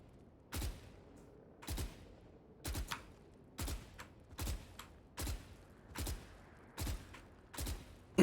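Single gunshots fired while counter-strafing in Valorant, about eight sharp, evenly spaced shots roughly one per second, each a crisp crack with a short tail, over quiet background.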